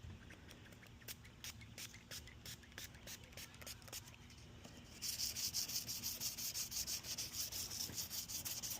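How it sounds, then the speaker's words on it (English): A car headlight lens is sanded by hand, producing quiet, rhythmic rubbing strokes that grow louder and harsher partway through, close up with no voices. "let's just start with the sanding"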